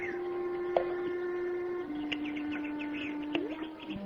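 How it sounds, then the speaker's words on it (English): Birds chirp and call around a fish pond at sunset, brief bright tweets over a steady tonal hum and faint background noise, no talking. "Birds playing in the fish pond. Look at them. Happy birds."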